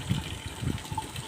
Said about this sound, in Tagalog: Ito sumahod ng tubig dito kasi magdidilig sila ng papaya dito